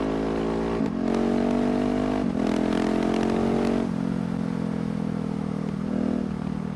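A KTM 690 SMC R single-cylinder motorcycle engine revs up hard with a loud, throaty exhaust note, rising in pitch through a few gear changes, close by.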